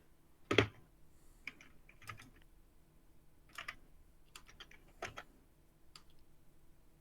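Computer keyboard typing during a tabletop role-playing game session: a handful of sparse, separate key presses and short bursts, fairly quiet and close, with one louder press near the start and no talk.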